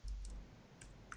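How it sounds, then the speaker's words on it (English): Quick, light keystrokes clatter on a computer keyboard, a few separate clicks spaced over about a second against a quiet room hum. "I was just typing in the answer"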